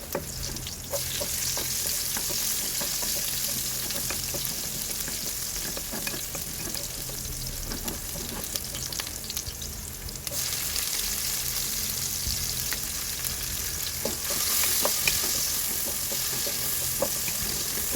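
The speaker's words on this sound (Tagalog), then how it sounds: "igisa lang po natin yung bawang at sibuyas" Garlic and onion sauté in a pan as the start of a chicken feet adobo, a steady close sizzle and crackle with occasional spatula scrapes and clinks running the whole way through, no voices.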